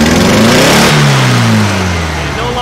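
A 1956 VW Beetle engine with a faulty carburetor revs up loud and close, then its pitch sweeps down as the revs fall away.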